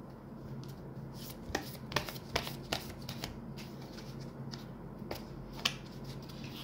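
Oracle cards are shuffled close by, with soft riffling and several sharp slaps and snaps of the deck, quiet and intermittent.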